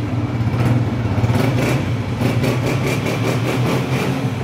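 A Honda 125 motorcycle engine idles close by with a steady low rumble and rapid putter, holding an even pace throughout with no talking.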